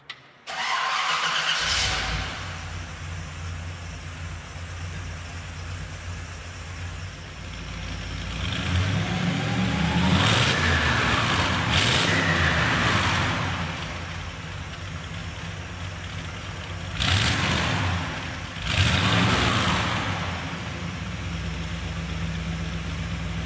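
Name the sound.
1956 Ford F100 pickup truck engine revving and idling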